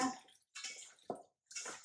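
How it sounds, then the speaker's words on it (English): Lemon vinaigrette poured over raw chicken breasts, three short wet splashing pours separated by brief pauses, close and fairly quiet, no talking. "This is a lemon vinaigrette, so I'm going to pour this right on."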